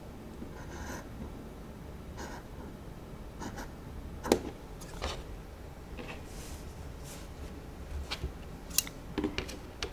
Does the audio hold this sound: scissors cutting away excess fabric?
yes